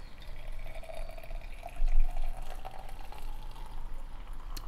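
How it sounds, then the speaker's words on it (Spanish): Hot water poured over two chamomile tea bags in a cup, a steady soft liquid trickle with a brief louder swell midway, close and alone. "voy a agregar un poquito de agua caliente."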